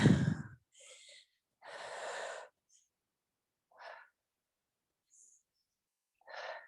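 Heavy breaths pushed out during the cool-down of a sculpted-arms home workout: several separate exhales, close and breathy, spaced by short pauses, with one stronger gust at the start and no talk.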